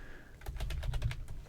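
Rapid keystrokes on a computer keyboard while working in a KDE Plasma 5 desktop, a quick, even run of close, crisp clicks after a brief quiet start, with no voices.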